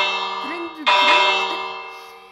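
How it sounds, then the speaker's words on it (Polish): A metal bell is struck twice in quick succession, the second strike bright and loud, each ringing out with a long sustained shimmering tone that slowly fades. "Zatryndulujemy dzwonem i..."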